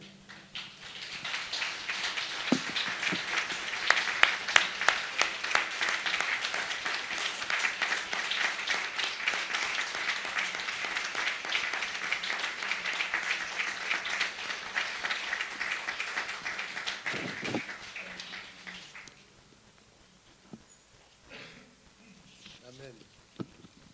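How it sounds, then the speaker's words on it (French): A church congregation applauds steadily for about eighteen seconds, a dense patter of many hands, then it dies away into quiet room noise and faint voices. "on va tous s'applaudir"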